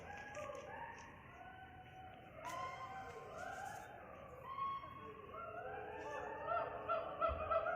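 Geese honking repeatedly at a zoo in a noisy chorus, several birds overlapping with nasal, drawn-out calls over a steady background murmur.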